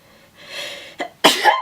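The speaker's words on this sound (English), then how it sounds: "Oh my god, I need to sneeze." A single loud, close sneeze, with a short sharp intake and catch before the explosive burst.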